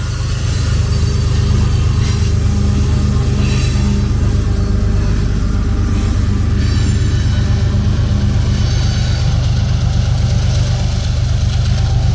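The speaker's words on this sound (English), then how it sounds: "Union Pacific 7452 brings up the rear as N-Train distributed power" Union Pacific 7452, a distributed power locomotive at the rear of a train, rumbles past slowly with a loud, steady low engine drone and continuous rolling noise.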